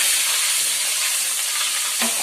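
Four boiled eggs frying in hot salted oil, a loud continuous sizzle and hiss, close and steady, with a brief sharper crackle near the end.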